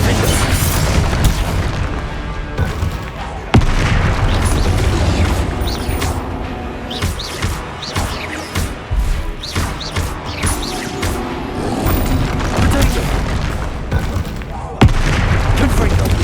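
Confringo fire spells in Hogwarts Legacy set off repeated booming explosions and crashes amid continuous loud combat clatter, with a voice calling out spell names over the din.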